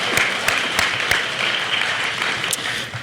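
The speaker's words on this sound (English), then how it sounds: "A huge round of applause to our coaches." Audience applause for coaches at a spring sports awards ceremony, continuous clapping filling the hall with a few louder individual claps standing out near and sharp.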